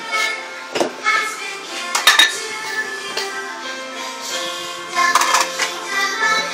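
Plates, forks and cutlery clink and knock together while being washed in a home kitchen, with sharp scattered clatters and metallic rings over running, sloshing water.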